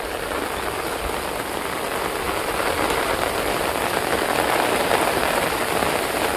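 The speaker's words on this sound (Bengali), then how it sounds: "প্রচণ্ড মুষলধারায় বৃষ্টি হচ্ছে" A heavy monsoon downpour pours steadily over a Sundarbans village, a dense, loud and unbroken rush of rain striking surfaces nearby with no voices.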